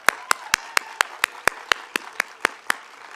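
An audience applauds at a School of Nursing hooding and pinning ceremony, heard as a moderate, evenly spaced series of sharp claps, roughly four per second, with a murmur of crowd noise underneath.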